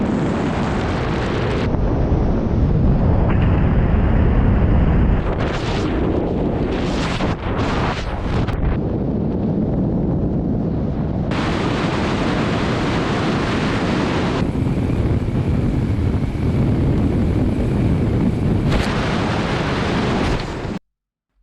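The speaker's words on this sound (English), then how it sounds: "So that was the plane crash, and that was him jumping out." A small airplane crashes after the pilot jumps out, heard as a continuous loud roaring rush of wind and rumble that churns and shifts in intensity for about twenty seconds before cutting off abruptly.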